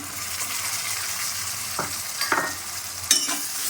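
Ginger, garlic and onion paste sizzles steadily in a hot pan for Bengali egg curry while a utensil stirs and scrapes it in a few brief strokes. The sizzle is close and continuous, with no talking.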